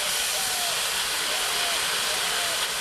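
Ginger paste and slit green chillies hitting hot oil in a frying pan after fried radish and potato, a loud, steady broadband sizzle and hiss lasting the whole moment, close up.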